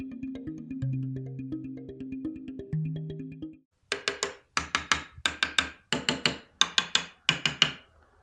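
Low, sustained tones ring out one after another from a handmade wooden tongue drum, then a pause before a quick run of sharp, evenly spaced knocks, close and fairly quiet.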